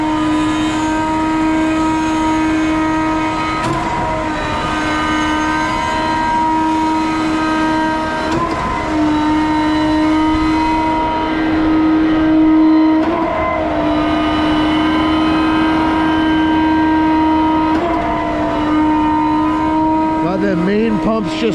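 Concrete pump running at very high pressure while pushing concrete through a Y-splitter, a loud continuous mechanical drone with strong steady tones and periodic surges from the pump strokes, close by with no clear talk.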